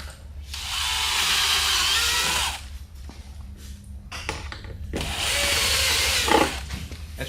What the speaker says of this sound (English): All right, drilling.